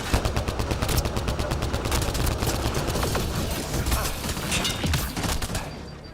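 Enemy gunfire in the Mass Effect Andromeda video game, dense rapid volleys of loud shots and bursts over a rumbling battle bed, with a voice talking beneath.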